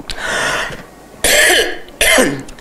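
A lecturer giving an Islamic talk coughs three times in harsh, loud bursts, close to the microphone, with short pauses between the coughs and no speech over them.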